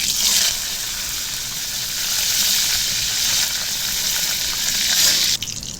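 Curry leaves and cumin seeds sizzle in hot oil in a wok, giving a loud, steady frying hiss that ends with a sudden drop near the close.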